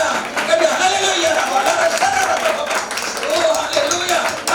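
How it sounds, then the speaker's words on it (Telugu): A church congregation claps hands together at a live worship service, a dense, steady roar of many palms under loud singing or chanting voices throughout. "చప్పట్లు కొడదాం"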